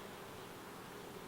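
Dense, steady buzz of many bees inside a hive, a continuous close drone with no break and no voices.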